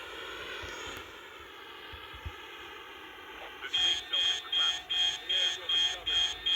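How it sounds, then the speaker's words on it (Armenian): A helicopter in the mobile game Call of Duty Mobile drones with a steady engine whine under players' voice chat, then a loud rhythmic beeping alert pulses repeatedly in the final seconds. "Չգիտեմ ես վերտալյոտը ընդ է։"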